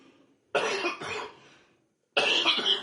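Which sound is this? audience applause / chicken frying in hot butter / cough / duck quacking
cough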